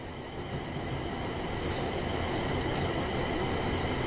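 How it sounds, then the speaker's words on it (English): A Class 350/1 Desiro electric multiple unit runs on the West Coast Main Line in Train Sim World, giving a steady rolling rumble and hum with faint wheel noise throughout. "350/1 electric multiple unit, manufactured between 2004 and 2014, and is part of the Desiro family"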